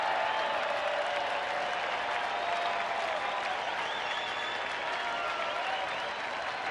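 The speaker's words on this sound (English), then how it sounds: "And the crowd getting into it with 2 out." Baseball stadium crowd at a Tigers–Rangers game cheering and clapping steadily throughout, a dense, sustained roar of applause with no break.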